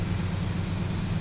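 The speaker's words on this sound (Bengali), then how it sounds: "এক্সস্টার ফ্যান চলছে" A kitchen exhaust fan runs with a steady, even low hum and a constant airy whoosh, unchanging throughout and without any voices.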